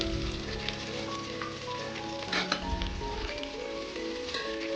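Onions and green chilies sautéing in a pan for a mushroom and green peas biryani, giving a steady close sizzle and frying crackle with light stirring and scraping throughout.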